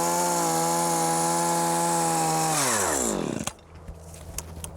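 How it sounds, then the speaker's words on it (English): A powered hedge trimmer cutting a yew hedge runs loud and steady, then winds down and cuts off, leaving faint outdoor background. "For bigger jobs, you may want to use an electric or gas-powered hedge trimmer"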